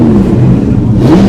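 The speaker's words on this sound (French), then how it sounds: "Écoutez cette sonorité magique de 8 cylindres de Molsheim." A supercharged Bugatti Type 35 eight-cylinder race car engine at a classic car rally start, a loud, close, throaty drone that swells and eases as the revs shift.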